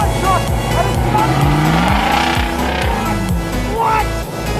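A Hellesauras 6x6 Jeep Gladiator, a six-wheeled truck-sized pickup, drives past loudly with a throbbing engine note and rising revs, close and dominant throughout, with a brief squeal near the end.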